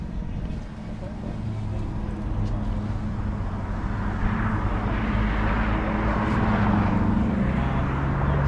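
A drone flies overhead during a Ford Falcon car cruise along a winding road, making a steady whirring hum that slowly grows louder against outdoor background noise.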